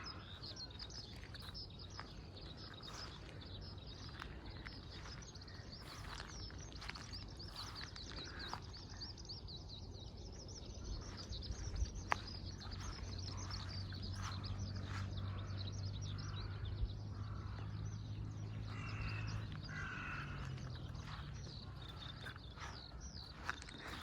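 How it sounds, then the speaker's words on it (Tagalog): Morning birdsong drifts over rice fields, faint scattered chirps and tweets at a distance over a soft outdoor hush, with a few light footsteps and rustles nearby. "Ang ganda ng mga huni ng mga ibon."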